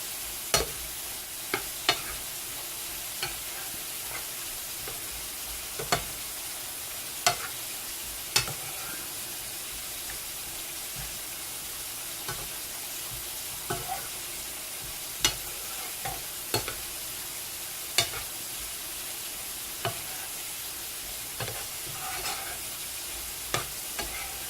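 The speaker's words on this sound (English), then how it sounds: "I'm gonna stir this up in here." Eggs cook in a frying pan with a soft, steady sizzle while a utensil stirs them, its scrapes and taps coming as scattered light clicks over the frying.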